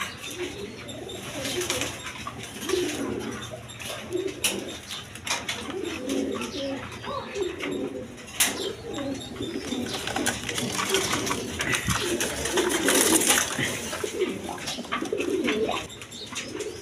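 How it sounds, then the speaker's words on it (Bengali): A pair of Beauty pigeons coo steadily in low repeated phrases over a constant background hum, with occasional faint chirps from other birds and brief wing flaps. "এখানে এক পেয়ার বিউটি কবুতর আছে, দেখেন কোয়ালিটি সম্পন্ন কবুতর"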